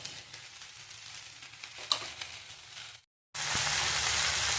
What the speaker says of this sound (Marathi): आता हे व्यवस्थित परतून झालं आहे